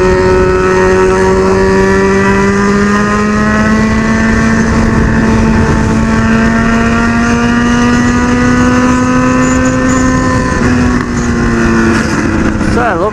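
A Honda CB1000 motorcycle engine drones at high speed, loud and steady with a slowly rising pitch and a brief dip near the end, plus wind noise.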